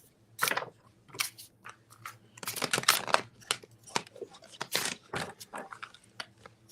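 Tarot cards are riffle shuffled in several quick bursts of crisp, crackling flutter separated by short pauses, close up with no talking.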